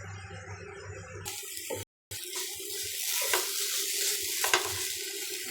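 Grated carrots frying and being stirred in a pan for carrot halwa, a steady close sizzle with scraping strokes and clinks, broken by a brief dropout near the start.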